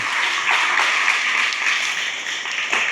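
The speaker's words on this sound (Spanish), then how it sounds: "Le damos un aplauso de honra acá a nuestro joven." Church congregation applauding a young man: a continuous, bright wash of many hands clapping at once, loud and steady with no pauses.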